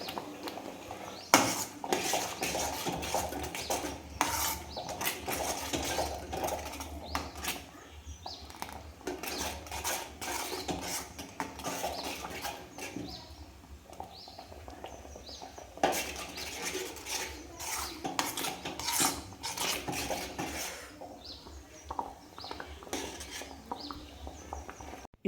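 A spoon stirs coconut pudding in a pot on a low flame, scraping and clinking against the metal in irregular, fairly quiet bursts, with no one talking.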